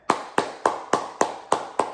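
Seven sharp, evenly spaced hand claps ring out close and loud in a steady rhythm, each one a crisp isolated smack with a short decay.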